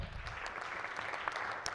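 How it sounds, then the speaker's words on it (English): Applause from a Senate floor session honoring student Senate pages, a steady, moderately quiet patter of many hands clapping throughout with no voices over it. "You just give them a round of applause."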